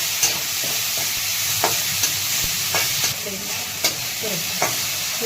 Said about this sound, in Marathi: तेलामध्ये पात परतून घ्यायची छान